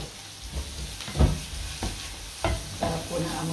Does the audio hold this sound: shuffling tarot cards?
no